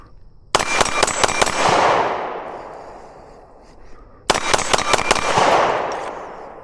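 A Glock pistol fires two rapid five-shot strings at steel targets about ten yards away, each burst of sharp cracks followed by a ringing decay and a short pause between strings.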